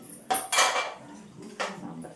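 Steel utensils clatter briefly while sambar is being served, giving three quick metallic clinks close by, with no talk.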